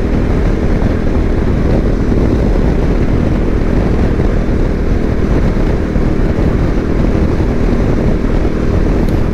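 Suzuki V-Strom motorcycle riding along a backroad, a loud continuous engine and wind roar filling the whole stretch at an even level, close up with no voices.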